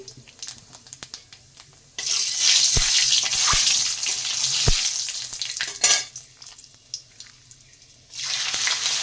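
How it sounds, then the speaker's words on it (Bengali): Nigella seeds crackle and sizzle loudly in hot mustard oil in two bursts, separated by a quieter stretch with scattered clinks. "তেলটা গরম হয়ে গেছে সামান্য একটু কালো জিরা দিয়ে দিলাম"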